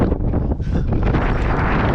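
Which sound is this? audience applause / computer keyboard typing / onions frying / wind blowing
wind blowing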